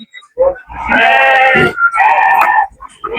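Several loud, close sheep bleats at a sheep market in Kokand, long wavering cries one after another with brief gaps, with faint talk nearby.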